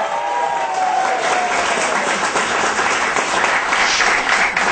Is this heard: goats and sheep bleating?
no